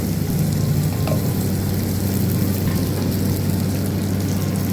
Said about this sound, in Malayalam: കഴുകി ഉണക്കി വെച്ച ഉണക്കമുന്തിരിയാണ് അത് ഇട്ട് കൊടുക്കണം അതും ഈ എണ്ണയിൽ കിടന്നിട്ട് നന്നായി ഒന്ന് ഇട്ട് വരണം